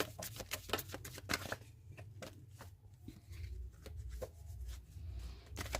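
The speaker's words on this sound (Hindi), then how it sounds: "last shuffle" Tarot cards are shuffled once more, soft close riffles and flicks in quick bursts at first, then sparser quiet taps over a low background hum.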